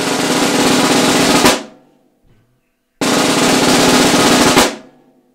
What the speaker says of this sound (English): The very first thing you hear me play is what we call in pipe band land introductory rolls.